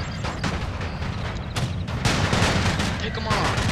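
Massed musket volleys crackle in Napoleon: Total War, a dense rolling fusillade of overlapping shots with heavy booms surging in bursts, loud and close, with shouting voices mixed in.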